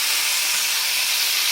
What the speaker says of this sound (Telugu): కొంచెం ఆయిల్ వేసి అలా ఇప్పుడు తరిగిన టమాటా వేసుకోవాలి.